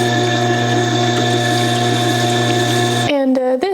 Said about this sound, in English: So we have a little bit of a burr, so we can do that on the honing wheel.